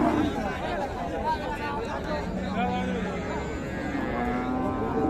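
Cows and calves low now and then at Raniganj cattle market in Dinajpur, heard amid the constant chatter and babble of a crowded livestock haat.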